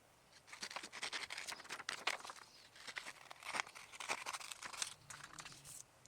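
Scissors fussy cutting flower pieces out of paper, with irregular bursts of close snipping and crinkling paper rustles, quiet and uneven in rhythm.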